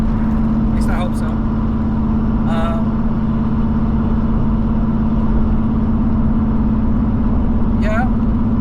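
A 1969 Corvette engine drones steadily while driving, a constant loud hum filling the whole clip, with brief chirps and squeaks over it.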